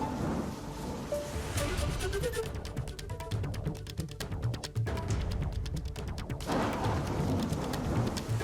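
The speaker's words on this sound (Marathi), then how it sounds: "सचिन, काल रात्रभर पावसानं मुंबई आणि एमएमआर क्षेत्रामध्ये जोरदार बॅटिंग केलेली आहे।" Heavy monsoon rain pours over Mumbai in a dense, steady roar that stays loud and continuous throughout, with no voices.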